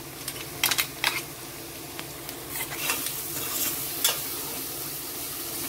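Ground masala is tipped into a pan for a vegetable bath and stirred, with scraping and clinks of the spoon against the pan over a light steady sizzle, close by.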